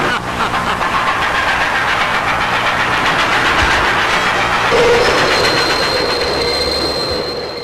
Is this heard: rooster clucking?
no